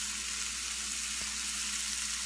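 Chicken pieces fry in a pan with a constant bright hiss of hot oil, steady and close, with one soft tap partway through and no talking.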